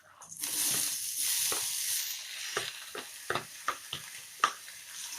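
Cabbage, mustard seeds and green chillies sizzle in hot oil for a cabbage sambharo, a loud hiss that fades as a quick run of spoon clinks and scrapes against the pan follows.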